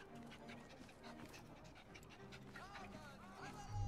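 A dog pants rapidly in Assassin's Creed Syndicate, quick rhythmic breaths close up over faint game ambience, with people talking around it.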